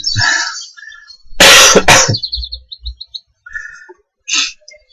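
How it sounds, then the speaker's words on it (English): A person who is sick gives a short burst of coughing at close range, a couple of loud harsh hacks set between faint bird chirps in the background. "There will be coughing and sniffling, clearing the throat."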